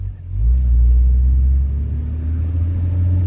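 A 4x4 revs hard as it drives through soft sand at Belmont Beach, NSW. The engine gives a loud, close, sustained low rumble that swells quickly and holds steady.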